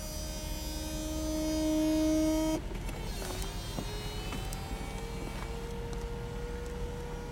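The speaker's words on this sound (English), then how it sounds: "now I'm going to show you the fully automatic convertible top" The fully automatic convertible top of a white 2010 Jaguar XK 5.0L V8 runs on its electric motor, a steady whining hum that shifts pitch partway through with a soft clunk, followed by a lower continuous drone with faint clicks.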